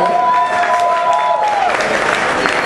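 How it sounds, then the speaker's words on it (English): Applause from an audience at a book launch party in a New York nightclub, a steady broadband clatter of clapping running under ongoing speech for the whole stretch. "Let's give him a round of applause."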